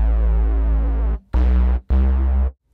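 A Retro Synth oscillator in Logic Pro X, shaped by an LFO, plays as a buzzy sustained synth tone that cuts off abruptly, then repeats in two shorter chopped bursts, loud and alone.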